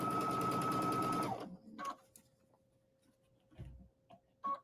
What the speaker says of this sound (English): now we're going to go ahead and put a top stitch over the 1/4 inch seam allowance